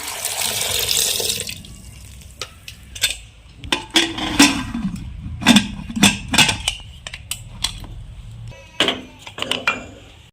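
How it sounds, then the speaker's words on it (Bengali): Water pours into a pressure cooker holding washed potatoes. A steady rush comes first, then splashes and clinks of the pot follow in an uneven run of close knocks and drips. "জল দিলাম"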